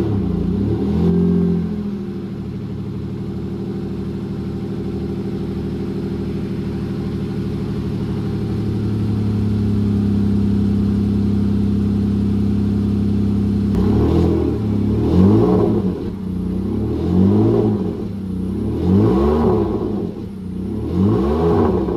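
A BMW M5 engine starts and settles into a steady idle, then gives a string of sharp, rhythmic revs that rise and fall, loud and close, with no talking.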